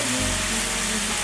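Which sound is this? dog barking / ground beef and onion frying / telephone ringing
ground beef and onion frying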